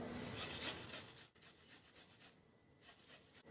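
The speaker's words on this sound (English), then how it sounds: "Into this, I am grating in a small piece of ginger," A small piece of fresh ginger being grated for a salad, giving soft rasping strokes in short bursts, close but quiet, with brief pauses between passes and no speech.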